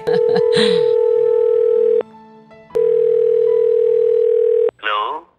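A telephone ringback tone plays on a call, two long steady beeps separated by a short gap, loud and close, with a brief voice just before and after.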